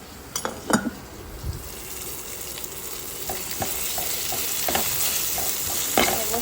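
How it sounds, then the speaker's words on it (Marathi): Okra coated in spice mix and salt frying in a pan, stirred with steady scraping and clinks over a constant close sizzle, with no voices. "व्यवस्थित हलवून घ्यायचे आहे."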